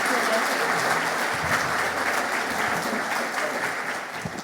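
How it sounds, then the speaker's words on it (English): A conference audience at the CliC Open Science Conference 2026 opening ceremony claps together, a loud dense wash of applause holding steady and tapering slightly near the end. "You can give us a clap if you like."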